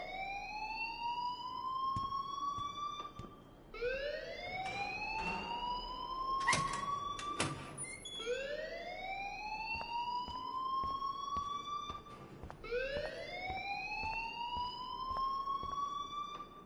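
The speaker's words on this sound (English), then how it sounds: "please turn off that alarm since that's your job." A wailing electronic alarm in the video game Life Is Strange rises and falls in repeated siren-like sweeps, loud and steady throughout, with no talking over it.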